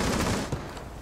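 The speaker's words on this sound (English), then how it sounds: "I was shooting against a building" Video-game gunfire aimed at a building comes as a rapid, rattling burst of shots, fairly loud and dense at first, then thinning out within about a second.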